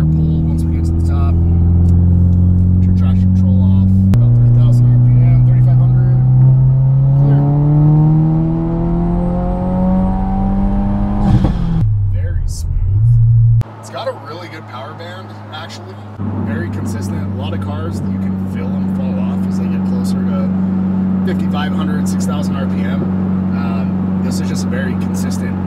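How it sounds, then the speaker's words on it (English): Subaru WRX (VB) with a BNR big turbo pulls hard in third gear, engine note rising steadily in pitch, dipping at a shift, then holding a loud steady drone with turbo whir, close-up from inside the car while someone talks over it. "what we're gonna do right here is just a little third gear pull once we get to the top"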